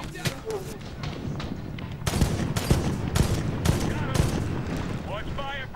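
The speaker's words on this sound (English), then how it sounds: "I'm taking fire from up slope" Sustained gunfire pours down from up a slope in Medal of Honor, heavy overlapping shots and bursts that stay loud and dense throughout, with a voice speaking briefly over the barrage.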